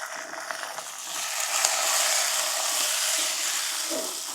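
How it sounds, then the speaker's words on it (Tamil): Small onions (shallots) sautéing in a pan hiss in a steady, loud sizzle that swells after the first second and holds, with faint stirring scrapes and no talking. "இது நல்லா வதக்கணும் சின்ன வெங்காயத்தை."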